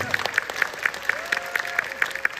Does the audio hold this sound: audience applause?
yes